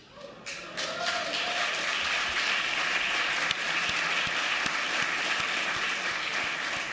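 Members of the House of Delegates give a long farewell ovation, dense sustained applause from a large room that swells in the first second and holds steady and loud throughout.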